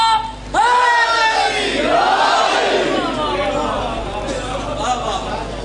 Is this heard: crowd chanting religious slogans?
yes